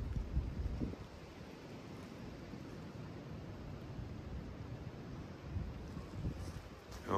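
Gusty wind blows through woodland trees amid brambles at a wood-cutting site, a steady broadband rushing roar with heavy low rumble against the microphone, swelling briefly near the start and again at the end, with no voices.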